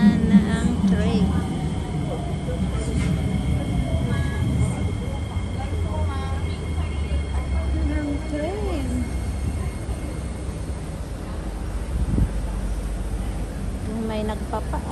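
A train arrives at a station with a steady low rumble and rolling wheel noise that lasts throughout, plus a faint squeal, under people talking in a busy crowd.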